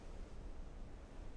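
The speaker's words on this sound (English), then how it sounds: "Waves." Ocean waves wash in an E3 game presentation, a broad, steady roar of surf mixed with wind noise, continuous and with no voices.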